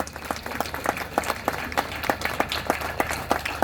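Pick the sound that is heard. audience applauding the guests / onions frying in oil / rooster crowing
audience applauding the guests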